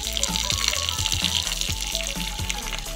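Water pours out of a balloon with a continuous splashing trickle and small rhythmic gurgles, close by and moderately loud, with no voices.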